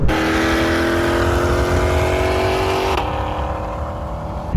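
A 2020 Ford Mustang Shelby GT500 engine drones loudly at high revs close up during a highway pull, then its pitch drops briefly as it shifts gear.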